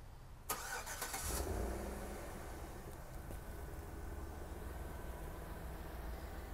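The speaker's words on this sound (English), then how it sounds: "and it also has remote start." A 2010 GMC Yukon XL starts by remote start close by: a brief cranking burst fires the engine, which then settles into a steady, even idle with no talking.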